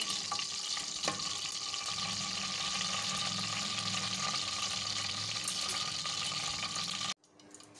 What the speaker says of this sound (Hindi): ऑयल गरम हो गया है, इसमें सबसे पहले हम साबुत मिर्च डालेंगे। इन्हें फ्राई करके हम साइड पे रख लेंगे।